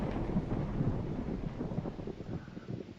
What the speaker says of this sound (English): Uh-oh, we got a thunderstorm outside.